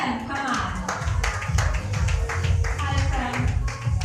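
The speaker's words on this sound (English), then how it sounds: "A round of applause, please, for Mr. Prem." An audience at a 2016 press conference gives a short burst of applause, scattered hand claps mixed with crowd murmur and a speaking voice over the top.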